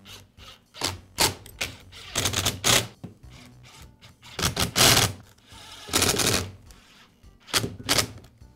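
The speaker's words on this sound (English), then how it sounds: "I'll secure the two halves together with the screws" A screwdriver drives screws to join the two halves of a Troy-Bilt string trimmer's throttle handle, giving close, loud bursts of ratcheting, clicking and plastic rubbing with short pauses and no voices.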